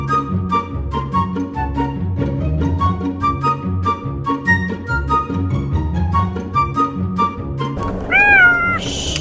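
A pet cat meows once, loudly and close, near the end of a busy passage with steady background sounds.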